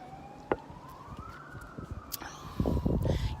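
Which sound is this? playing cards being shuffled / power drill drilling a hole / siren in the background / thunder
siren in the background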